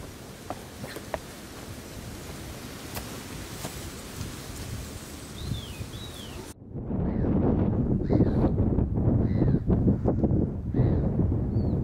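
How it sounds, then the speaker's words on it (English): Strong wind blowing outdoors in England in spring, a steady broadband roar with gusty buffeting against the microphone that grows louder and rougher in the second half. "As you can hear, it has been incredibly windy in my part of the world."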